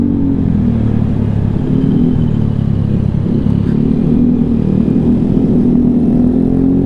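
Modified high-tyre 'predator' motorcycle riding along a city street, a steady loud low engine rumble that holds throughout with no pauses, close to the microphone, with no talking.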